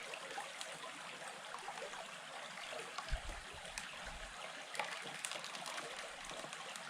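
Water trickles and splashes softly and steadily from a gold pan being flushed out at a creek, a faint close flow with occasional small sloshes.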